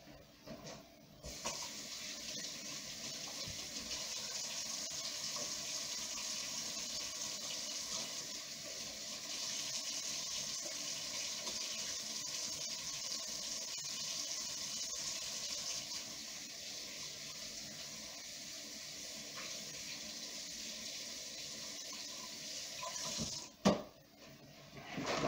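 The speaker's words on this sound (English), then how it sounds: "I'm going to wash my hands again because I'm going to get into this." Tap water runs steadily into a sink during handwashing, a moderate continuous splashing flow lasting over twenty seconds before a brief clatter and stop near the end.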